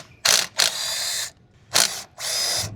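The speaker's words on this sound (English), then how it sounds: "Remove the 4 bolts holding the EGR valve on." A ratchet spins out the four EGR valve bolts on a 2019 Dodge 6.7L Cummins diesel engine, producing four loud, close, buzzing mechanical bursts separated by short pauses.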